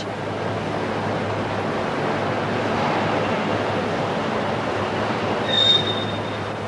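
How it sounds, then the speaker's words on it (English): Gas jet burner keeping molten aluminium alloy hot in a smelting plant, a steady loud roaring hiss that continues without a break, with a faint brief high whine near the end. "This is one of the gas jets keeping the metal hot."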